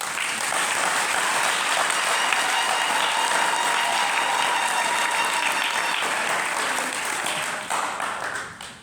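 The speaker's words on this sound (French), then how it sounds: "applaudissons ça" Dense, sustained applause from a large congregation at an Assumption Day Mass celebration, loud and steady for several seconds before tapering off near the end.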